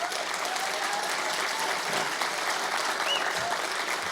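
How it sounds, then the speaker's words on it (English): Sustained audience applause at a cosmic summit talk, steady dense clapping throughout, moderately loud and even. "So let's just give a round of applause for George for putting this together."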